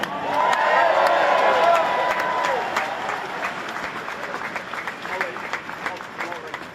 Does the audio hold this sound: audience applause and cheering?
yes